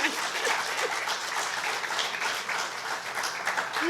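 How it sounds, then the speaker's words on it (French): An audience gives warm, sustained applause after a poetry performance at an art and poetry event, dense clapping rolling on without a break. "On l'applaudit jusqu'à ce qu'elle descende de cette scène."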